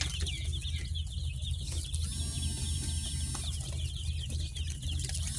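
An Australian-breed chicken flock in Betagi, with scattered clucks and some wing flapping over a steady low hum, and a thin high tone drawn out briefly in the middle.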